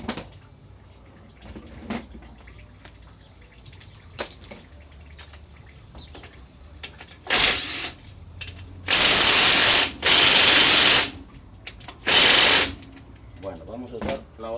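Ratchet or power tool loosening the pump bolts on a 4L60E automatic transmission in a repair shop, heard as several loud bursts of a few seconds each in the back half, between quieter handling noises and talk.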